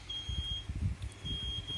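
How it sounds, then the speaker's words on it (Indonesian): Electronic buzzer on a water-level monitoring IoT circuit gives a steady high beep, sounding for about half a second, a gap, then again, over low background rumble. "di sini LED dan buzzer hidup dan bersuara selama 1 detik"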